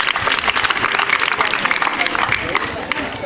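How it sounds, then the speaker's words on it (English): A crowd applauds a child who has just recited at a school event, steady dense clapping for several seconds with voices faintly mixed in. "That was a round of applause."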